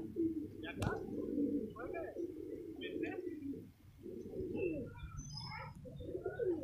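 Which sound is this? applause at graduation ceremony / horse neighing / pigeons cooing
pigeons cooing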